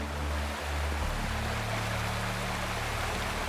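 Steady rushing waterfall in the video game Wuthering Waves, a constant broadband wash of falling water with a faint low drone underneath, heard without any voices.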